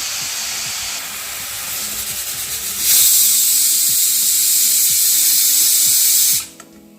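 Water splashed into a hot pan of coconut powder and jaggery sets off a loud, sudden hiss of steam that roars steadily for several seconds, then cuts off abruptly, with light scraping and clinking underneath.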